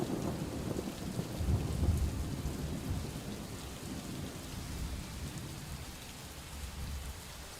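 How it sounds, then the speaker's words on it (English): A loud thunderstorm roars with steady heavy rain and deep rumbling thunder swelling early on, then a dense continuous downpour without any voices. "I forget how loud the thunderstorm is"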